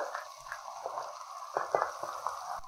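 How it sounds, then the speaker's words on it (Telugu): Thinly sliced onions frying in oil in a pan, a steady close sizzle with brief crackling bursts and stirring clinks, no voices. "ఉల్లిగడ్డ బాగా ఫ్రై అవ్వాలి ఆయిల్లో"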